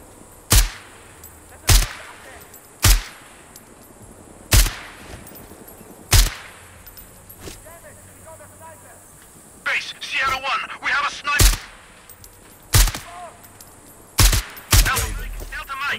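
Gunfire at the Tajmid Heights oil field in the shooter Sniper Ghost Warrior Contracts 2: loud, sharp single shots crack out roughly every second or so, and voices or radio chatter come in between shots midway.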